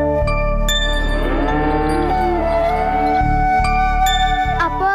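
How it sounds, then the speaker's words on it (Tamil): Cattle in a grazing herd moo in long, loud, drawn-out calls, one after another, with faint bell-like tinkles between them and no talking. "அப்போ அங்க மேயறதெல்லாம் நம்ம மாடுங்களா"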